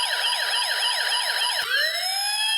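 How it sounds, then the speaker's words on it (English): An electronic fire engine siren from an E-Blox circuit kit speaker warbles in quick, rapid up-and-down sweeps, then shifts into a slower rising wail. It is loud, tinny and synthetic, with no voices. "you can also activate the other two sound effects, the fire engine siren and the machine gun sound"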